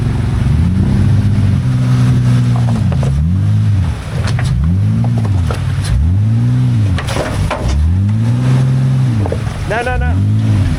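A 1991 Honda Civic fitted with an Acura MDX V6 powertrain revs repeatedly, its engine note sweeping up and down in rhythmic surges, loud and close, with people talking over it.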